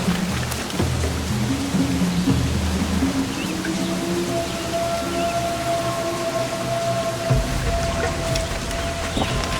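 Continuous rain in the video game Assassin's Creed Black Flag pours down with a dense wash of hiss, while a low droning hum and faint tonal whines sit underneath.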